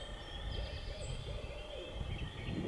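An owl hoots in the woods during a turkey hunt, a few faint distant hoots over a windy, rainy background with no talk.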